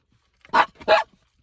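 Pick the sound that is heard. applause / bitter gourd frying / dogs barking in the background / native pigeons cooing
dogs barking in the background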